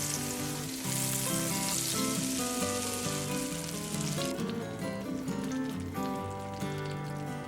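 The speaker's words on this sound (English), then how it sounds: "Fry about 5 minutes per side." Slovenian šmorn batter with folded egg whites sizzles gently in butter in a pan, a faint continuous crackle heard beneath a music bed.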